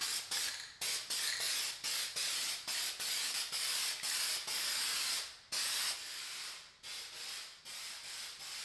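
Frosted glass spray paint hissing from an aerosol can onto a bathroom window, loud and close, in a steady run of short bursts separated by brief pauses.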